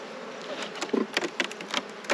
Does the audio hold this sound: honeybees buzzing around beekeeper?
yes